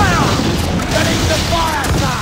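Ship cannons fire a broadside in Assassin's Creed Black Flag, a dense rumbling barrage of booms at sea that stays loud and continuous, with a voice shouting over it.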